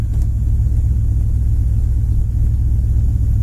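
A 1970 Camaro V8 idles steadily, a loud, close, deep rumble holding an even pitch with no revving, the engine warmed up after running for some time.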